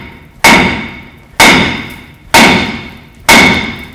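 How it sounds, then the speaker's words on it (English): Four loud, evenly spaced metallic clangs ring out about a second apart as a hammer strikes the front brake rotor of a 2007-14 Chevy Silverado, each hit sharp with a short ringing decay. "I'm going to use a hammer and hit anywhere on the rotor"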